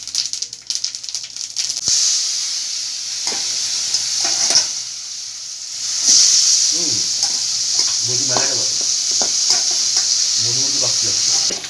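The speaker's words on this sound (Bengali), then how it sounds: "জিরে ফোড়ন দিলাম।" Cumin seeds hit hot oil for tempering with a loud, sharp burst of sizzle and crackle, settling into a bright continuous hiss with scraping stirs; a voice murmurs briefly underneath.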